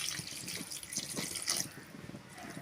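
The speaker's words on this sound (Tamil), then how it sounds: "கருவாடு வேகிற அளவுக்கு தண்ணி சேர்த்துக்கலாம்." Water is poured into a pan of dried fish curry, a faint, brief trickle and splash with light clinks, heard alone without talk.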